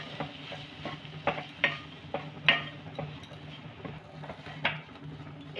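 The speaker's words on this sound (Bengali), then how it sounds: "এভাবে অনবরত কিন্তু নাড়াতে হবে।" Bitter gourd curry is stirred in a pan over low gas, giving a soft sizzle with irregular scrapes and taps of a utensil against the pan, quiet and close, with no voices.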